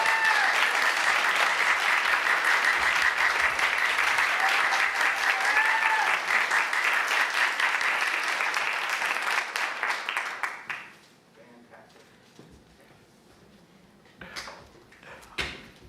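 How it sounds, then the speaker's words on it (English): Audience at a university graduate research competition applauds the winners with loud, dense, sustained clapping that stops abruptly, leaving a quiet room with a few faint knocks. "a round of applause for all of our winners"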